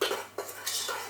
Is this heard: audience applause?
no